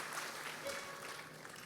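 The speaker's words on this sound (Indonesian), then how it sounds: "Kita beri tepuk tangan yuk kepada tim Praise and Worship kita yang luar biasa" Applause for a praise and worship team at a church service, a short, even patter of clapping from a crowd at moderate distance.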